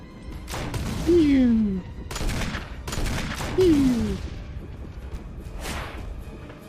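Gunfire in a Resident Evil video game: a few loud bursts of shots spaced out over several seconds, with a falling whine after two of them and voices and game noise running underneath.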